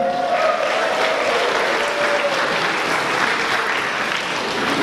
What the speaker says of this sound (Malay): Satu tepukan kepada Datin.